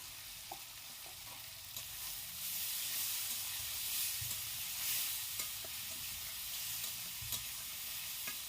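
Tomatoes with salt and a little turmeric frying for a sour fish curry, a steady hissing sizzle with occasional soft spoon taps as they are stirred.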